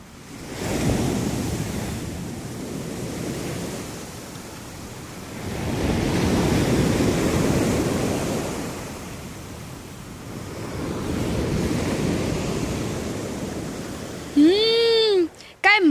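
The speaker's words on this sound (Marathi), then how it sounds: "किती मोठा समुद्र आहे." Sea waves wash onto a beach in slow, broad surges that swell and recede about every five seconds, with wind noise throughout. A short tonal, voice-like sound appears near the end.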